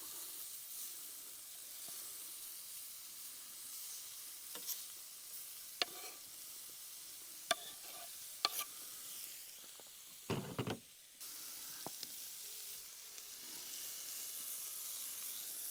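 Meat and peppers sizzle in a camp pan outdoors, a quiet, steady hiss broken by a few sharp knocks and one short louder clatter partway through.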